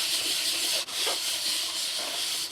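Fine sandpaper rubbed over a part on a 1964 Honda S90, a steady close hissing scrape with a momentary break partway through as the stroke changes.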